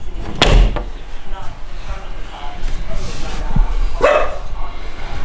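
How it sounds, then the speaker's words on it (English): A dog barks from behind a closed bathroom door, a few sharp muffled barks with a thump like a door knock, amid room noise. "Barking from the bathroom?"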